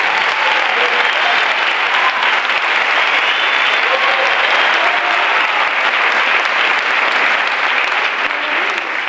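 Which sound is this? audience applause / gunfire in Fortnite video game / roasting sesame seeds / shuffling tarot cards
audience applause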